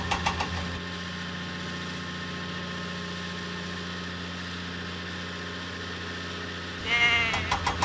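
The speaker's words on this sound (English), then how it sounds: "Thomas must deliver the goats to Farmer McColl's farm" Goats bleat in a Thomas & Friends video game over a steady low mechanical hum, with a louder, sharper burst of sound near the end.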